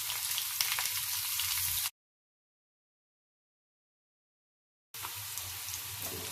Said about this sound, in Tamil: 4 பக்கமும் நல்லா வறுபட்டுருக்கு. உருளைக்கிழங்கு வறுபட்டுருக்கு.